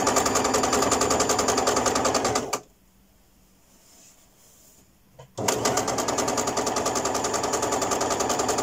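Sewing machine stitching a seam on a bolster pillowcase, running steadily for about two and a half seconds, stopping briefly, then starting again with the same rapid close-up needle rhythm.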